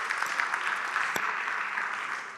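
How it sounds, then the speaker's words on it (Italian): An audience at an HR Forum 2019 round-table session claps to welcome the arriving panelists. Dense, steady applause fills the whole stretch at an even level, with one sharp louder clap standing out midway. "vi invito a salutare appunto con un applauso"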